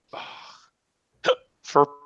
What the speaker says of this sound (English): oh, fucking hiccups